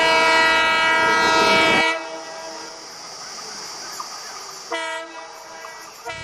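A loud train horn blares steadily for about two seconds, then cuts off, leaving the low rumble of a train with two shorter horn blasts further on.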